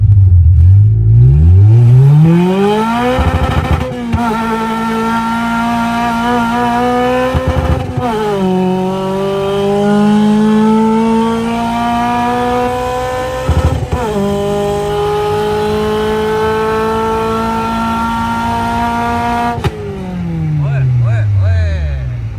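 Honda K24-powered car on nitrous accelerating hard, a loud, close engine howl rising through repeated upshifts with brief drops between gears, ending in a sharp rev.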